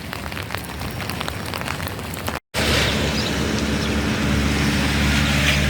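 Steady rain falls hard and close, a dense continuous hiss of drops on surfaces, briefly cut by a moment of silence before resuming.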